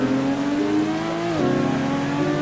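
A virtual car in the video game Car Dealership Tycoon drives steadily with a droning engine, its pitch dropping sharply for a moment around a quick handbrake tap before settling back into a steady hum, with no voices.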